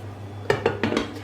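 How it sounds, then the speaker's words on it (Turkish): A metal spoon scrapes and clinks against a pot of bulgur and rice a few times in quick succession, close by. "Güzelce karıştırıyorum."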